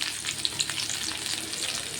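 Two chopped small shallots frying in a pan, a soft, steady crackling sizzle with faint light stirring, fairly quiet and close, no voices.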